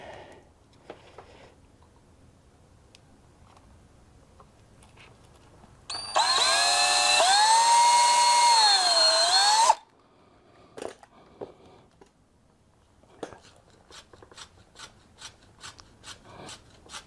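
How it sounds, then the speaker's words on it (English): Power drill driving a number 8 deck screw, 1 1/4 inch, into wood on a garden hurdle: one loud steady whirring burst of about four seconds, pitch dipping as it bites, then scattered knocks and taps around it. "these deck screws are also number 8. Number 8 by 1 1/4."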